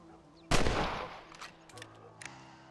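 A single loud rifle shot cracks out from a Red Dead Redemption 2 hunting scene, followed by a decaying echo and faint scattered sounds in a quiet outdoor setting.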